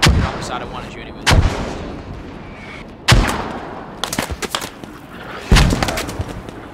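Loud artillery shell impacts in the military shooter game Squad boom close by, three or four heavy blasts spaced a couple of seconds apart, with sharp cracks and rumbling tails between them.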